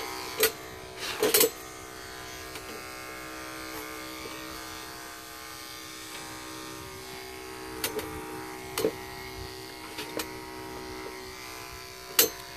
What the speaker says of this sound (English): So here's how we shave the head.